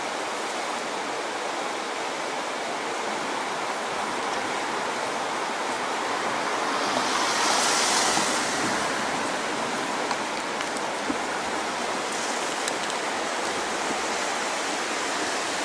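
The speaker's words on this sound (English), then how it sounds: "this is the main river just before it flows through the city and out to the ocean" The main river near Campbell River, BC, flows just before the city toward the ocean, a broad, steady rushing roar of water close by, continuous for about sixteen seconds with a slight swell midway and no talk.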